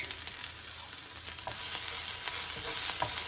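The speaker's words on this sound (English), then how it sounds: "So let's put it in here in the oil. And fry a bit." Garlic and chili frying in hot oil for Mumbai vada pav, a steady close sizzle with faint crackles and a few soft stirring taps, building slightly louder toward the end.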